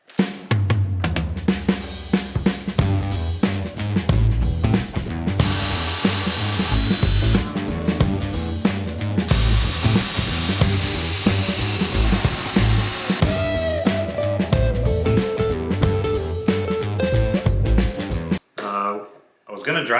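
A power drill bores dowel holes in wood, a loud, close, continuous whirring with varying pitch and brief pauses, and a voice talks over it in places.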